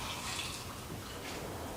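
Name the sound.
pouring pickle liquid back into container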